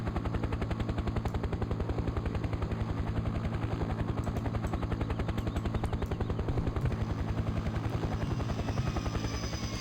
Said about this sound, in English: We'll land the helicopter down here